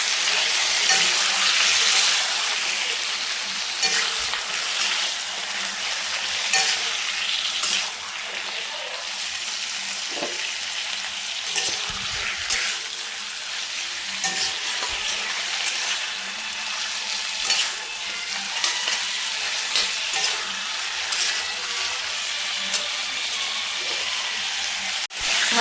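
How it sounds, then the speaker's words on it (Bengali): Chicken pieces frying lightly in a pan for a healthy chicken stew, giving a steady, close sizzle with occasional stirring scrapes and no talk. "চিকেনটা দিয়ে একটু ভালো করে একটু হালকা ভেজে নেবো 2 মিনিট।"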